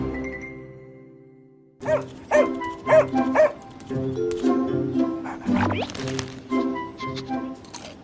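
A cartoon dog in an animated fable barks and yips several times in short, loud bursts over a musical background, with a squishy, whimpering edge to some calls.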